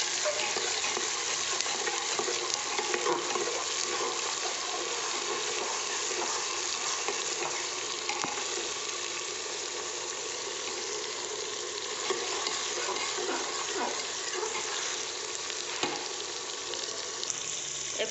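Onions frying in a pan with ground cumin and coriander, a steady close sizzle with occasional stirring scrapes throughout, no voices.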